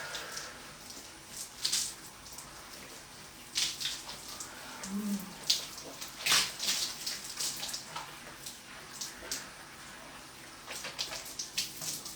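Water running from a tap or shower while hair is rinsed, an uneven splashing flow with louder gushes and spatters that come and go, close and without talk.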